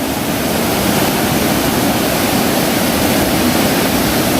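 A mountain valley stream flows in a constant, full rushing wash of water, loud and close, with no other sounds over it.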